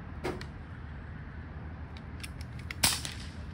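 A gunshot fired while hunting iguanas outdoors rings out as a single sharp crack near the end, with a smaller pop earlier, over a steady outdoor background hiss.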